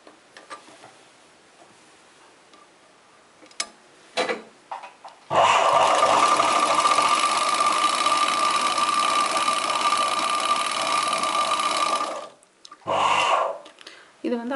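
A sewing machine stitches an embroidery line on a chudidar neck design. A few soft ticks come first, then the machine runs in a steady, close, rattling whir for about seven seconds, stops, and gives one more short burst.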